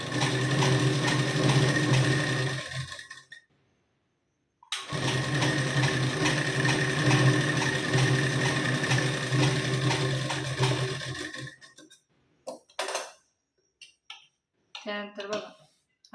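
A sewing machine stitches a blouse hem in two fast, steady runs separated by a short pause, close and loud, followed by brief bursts of handling and fabric movement as it stops.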